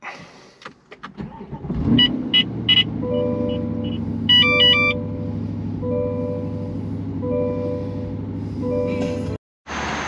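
A starter whirs and a car engine catches on a very cold start, settling into a steady idle nearby while several electronic chimes and beeps sound over it.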